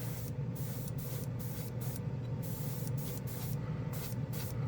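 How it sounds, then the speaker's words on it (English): An airbrush sprays polished alloy paint onto bare plastic model parts, giving a continuous close airy hiss with a low compressor hum beneath, broken by brief pauses in the high spray noise. "This airbrush is really good for this"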